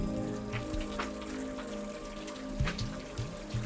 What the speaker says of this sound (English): Like a tap, just pouring down.